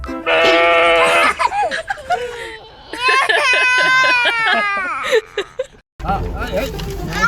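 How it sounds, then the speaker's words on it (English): Goat bleating near a baby: several loud, wavering, nasal bleats in quick succession, close by, with people talking in between. "Matthew, look at the goat."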